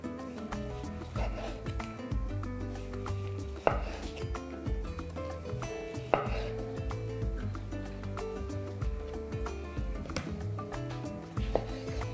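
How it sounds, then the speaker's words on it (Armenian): A knife chops tomatoes against a cutting board, a few sharper cuts standing out, with steady background music playing throughout. "կտրատում միջին չափի"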